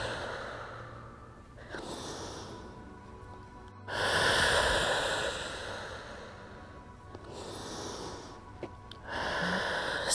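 Slow, deep breaths during a yoga twist, with long airy exhalations and inhalations in alternating waves, close and soft, with no talking.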